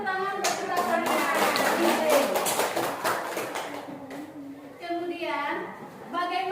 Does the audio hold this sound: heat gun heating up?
no